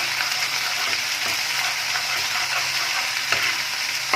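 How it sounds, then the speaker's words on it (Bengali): Ginger garlic paste fries and gets stirred in a pan, giving a steady, close hiss of sizzling oil throughout with faint scraping from the stirring and no talking. "অল্প একটুখানি আমি আদা রসুনের পেস্ট দিয়ে দিচ্ছি, বেশি দেবো না। দিয়ে ভালোভাবে নাড়াচাড়া করে নিলাম।"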